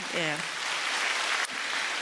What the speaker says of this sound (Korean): 우리 박수로 좀 격려를 하십시다.